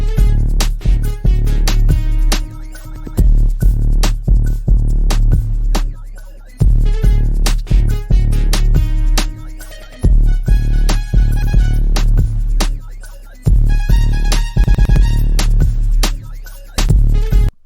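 A loud, punchy trap beat loop made in Reaper with booming bass, hi-hats and an added sharp snare, repeating in bars with brief gaps between phrases.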